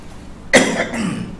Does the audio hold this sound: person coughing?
yes